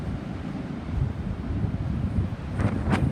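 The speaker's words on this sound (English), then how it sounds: "Real windy day out here." Strong wind buffets the microphone on a cool beach with big waves blowing sand, a steady low roar with gusts swelling and easing, and two brief sharp ticks near the end.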